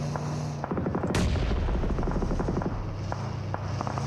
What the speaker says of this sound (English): you've got a few establishing shots that have been fired in from the back as well